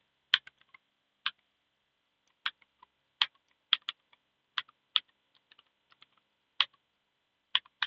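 Sparse, quiet keystrokes on a computer keyboard while React JS code is typed, landing as isolated clicks and short clustered taps with gaps between them, with no talking.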